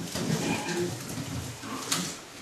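Soft racing pigeon coos rumble low and close indoors over faint room noise, with a brief rustle near the end.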